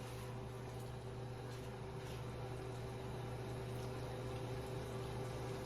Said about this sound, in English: Oh, you can really hear it now.